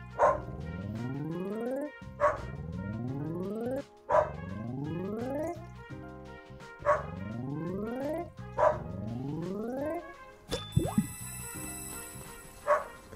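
Dog barking in the video game Spirittea, a series of repeated electronic bark sounds about every two seconds over steady game music, ending with brighter chime-like effects.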